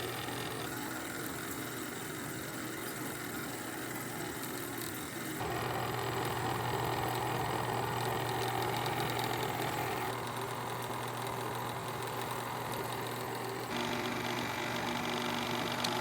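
A Bell and Howell Lumina 1.2 8mm film projector runs with a steady motor hum and mechanical whir, continuous and fairly close, getting slightly louder partway through, with no talking.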